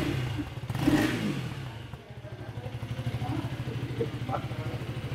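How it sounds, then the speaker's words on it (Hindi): KTM Duke 250 motorcycle engine revs briefly, then settles into a steady, throbbing idle with rhythmic exhaust pulses, recorded close and under faint background noise. "इसका आपको एग्जॉस्ट नोट सुनना चाहते हो तो सुन लो भाई, ये आपका एग्जॉस्ट नोट है"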